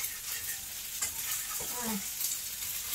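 Food frying in a hot pan for a quick breakfast, a steady close sizzle broken by scraping and a brief clatter as it is turned over, then continuing to crackle.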